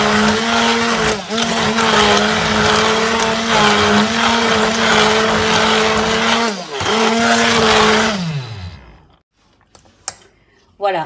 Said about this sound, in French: j'utilise mon mixeur pour aller plus vite